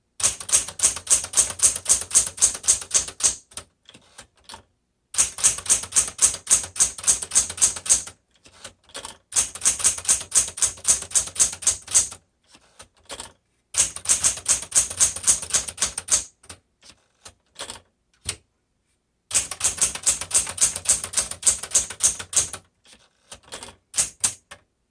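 A Smith Corona Galaxie Deluxe 12 manual typewriter typed on up close, with loud, rapid bursts of keystrokes in several runs separated by short pauses and occasional carriage-return sounds.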